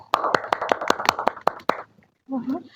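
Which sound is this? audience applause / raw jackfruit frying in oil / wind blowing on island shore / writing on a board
audience applause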